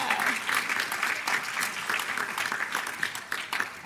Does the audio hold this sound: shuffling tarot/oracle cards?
no